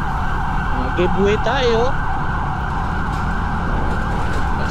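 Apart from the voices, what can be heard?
ambulance siren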